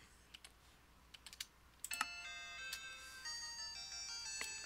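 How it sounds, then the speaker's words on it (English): A mobile phone ringtone plays as a bright, multi-tone electronic melody in the background, preceded by a few sharp clicks like keyboard taps, fairly faint with no speech. "My phone's going off."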